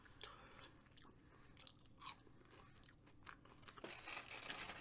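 Fast food French fries being chewed close up: soft repeated crunching and mouth sounds at a quiet level, with a few sharper bites and no talking.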